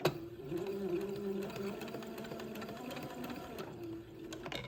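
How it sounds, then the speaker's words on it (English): A sewing machine runs slowly and steadily, stitching along a pleat on a baby gown; a low even whir holds close and constant for several seconds before briefly easing off near the end. "now I'm going to be sewing slow so that I can maintain my distance."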